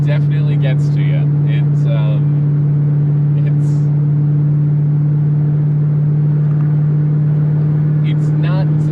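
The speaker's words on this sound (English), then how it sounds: "the droning definitely gets to you" A 1988 Ford LTD Crown Victoria with a 5-speed manual droning on the road, a loud, constant low hum filling the cabin throughout, with someone talking over it.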